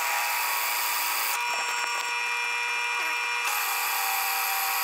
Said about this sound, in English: just take your time and drill